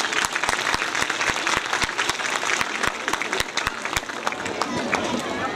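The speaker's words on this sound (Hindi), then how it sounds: "इन बच्चों के लिए भरपूर तालियां होनी चाहिए" Enthusiastic applause from a crowd at a school event, rhythmic and loud clapping with a few distinct sharp claps standing out, accompanied by some background murmur.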